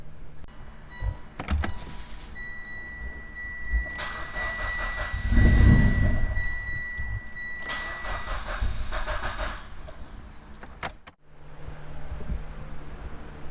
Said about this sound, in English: we started the car, stalling it out completely